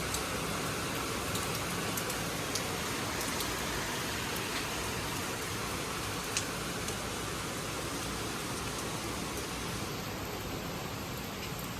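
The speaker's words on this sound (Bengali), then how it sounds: "বেশ জোরেই বৃষ্টিটা হচ্ছে" Heavy rain falls steadily and densely, a constant broadband hiss of drops on surfaces close by, unbroken for the whole stretch with only faint scattered drips standing out and no voices.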